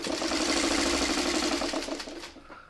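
A sewing machine stitches quilt block pieces in one steady, fast mechanical whir and chatter, close and clear with no talk, slowing and fading near the end.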